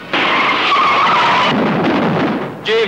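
A car skids to a stop with a loud, sustained tire screech lasting over a second, followed by a brief rumble and a short, sharp squeal at the end.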